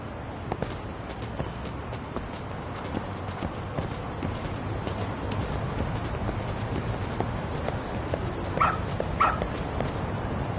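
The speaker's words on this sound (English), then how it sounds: "Good dog. Very good dog." A dog in the video game Lost Judgment gives soft barks and whimpers, a couple of short yips standing out near the end over a steady game background, with no speech.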